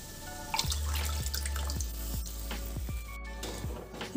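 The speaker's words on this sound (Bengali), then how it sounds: "ডালের বাটি ধুয়ে একটু জল দিচ্ছি" Water is poured into a bowl while the lentil bowl is rinsed in a Bengali home kitchen, a close continuous gurgling pour with small splashes and drips.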